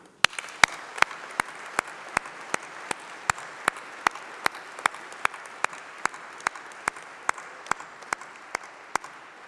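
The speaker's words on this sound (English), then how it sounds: "let's have a round of applause, a massive round of applause for all those special people" A graduation ceremony audience at UCLan breaks into steady, sustained applause, a dense wash of many hands clapping with a few sharp, regularly spaced claps standing out up close.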